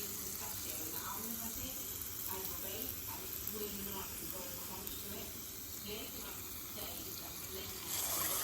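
Balls of Mysore bajji batter fry in hot oil with a steady, soft sizzle and crackle, and faint voices are heard under it.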